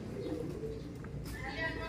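Low soft cooing of a pigeon in a video game, a few throaty murmuring notes, under a busy game background with some other faint sounds.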